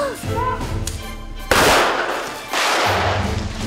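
Pyrotechnic charge blowing apart a hollowed kapok prop doll on a tokusatsu miniature set, a sharp loud blast at mid-clip followed by a roaring rumble, then a second burst of debris noise.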